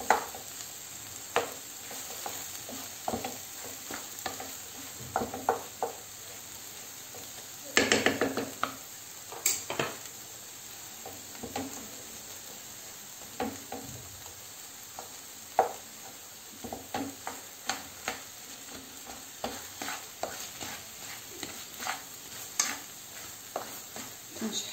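Kofta sizzling and frying in a pan with onion while being stirred, steady soft crackle broken by frequent scraping and clinking of the utensil against the pan, close and moderately quiet, no talk.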